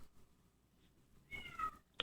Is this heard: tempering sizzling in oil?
no